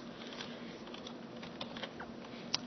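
Quiet, close typing on a computer keyboard, a light scatter of soft key taps with one sharper click near the end, over a steady faint room hum.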